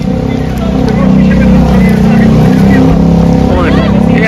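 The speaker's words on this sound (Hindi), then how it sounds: "वो देखो बाइक भी आ गई आगे वाले हाँ डोमिनर आया है" Bajaj Dominar motorcycle riding off-road alongside 4x4s, a loud, close, steady engine drone that swells as it arrives, with voices talking over it.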